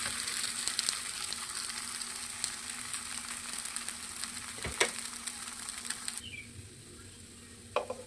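A wheat dosa frying on a pan, a continuous bright sizzle with a few sharp ticks and scrapes, steady and fairly close, with no one talking.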